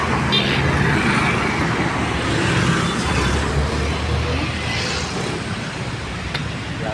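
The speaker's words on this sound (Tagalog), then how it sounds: "Traffic yan." Steady road traffic noise heard from a bicycle during a ride home after work, a continuous broad rumble of passing cars and other vehicles, fairly loud and constant throughout with no clear voices.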